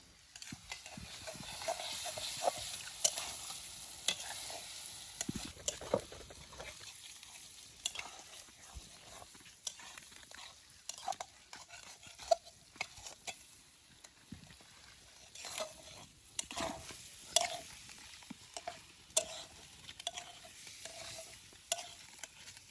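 Eggs added to a pan of sautéed onions seasoned with turmeric for egg chowmein give off a low, steady sizzle, with scattered clicks and scrapes of stirring throughout and no talking.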